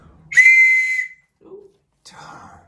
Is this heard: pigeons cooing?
no